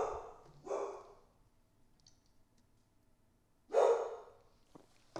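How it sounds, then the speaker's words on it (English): A dog barks outside: a few separate barks, one early, another soon after and a louder one later, with quiet gaps between and faint clicking in the background. "She's just barking a bark"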